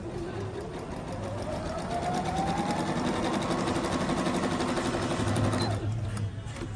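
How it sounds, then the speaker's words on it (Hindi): Bouquet Computer 9700 Super DX sewing machine running a basic stitch, a continuous close mechanical whir with a rising tone that speeds up and then settles, steady and uninterrupted. "अभी ये नॉर्मल अपने हिसाब से जो टांका है हम वो स्टार्ट करेंगे"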